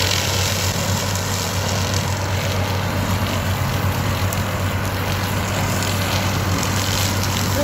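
A mower cutting down trees roars in a loud, continuous, steady drone close by, with a constant low engine hum under a dense, noisy grinding layer and no talk.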